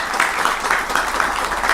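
A studio audience gives a short burst of steady applause welcoming YouTuber Manish Kashyap to an interview, even clapping at moderate loudness with no talk over it.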